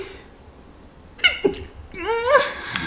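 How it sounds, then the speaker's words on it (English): A single close sneeze bursts out, followed a moment later by a longer, wavering high-pitched vocal sound, over quiet room background. "I'm about to sneeze."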